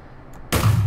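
A single pistol shot in Balkon's Weaponmod blocky video game: a sudden loud, broadband blast that cuts in after a near-silent moment and rings on to the end, close and alone.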